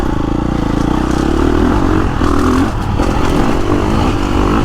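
KTM 350 Factory Edition four-stroke off-road bike on a woods-friendly map, loud close engine note as the throttle is rolled on, a continuous rising growl with some clatter and no talk.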